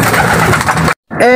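Pigeon cooing loudly and close as it comes home to its loft, a steady throaty coo that breaks off briefly before resuming, with someone speaking nearby.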